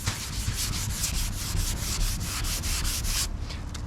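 A sanding block is worked back and forth along a car body panel up to a masking-tape body line, giving quick, even, rhythmic rasping strokes, close and continuous.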